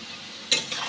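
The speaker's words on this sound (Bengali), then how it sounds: "কড়া করে ভেজে নিয়েছি আলুটা" Crisply fried potatoes in a pan give a brief sizzle and a short scrape, heard close up after a quiet moment, with no talking.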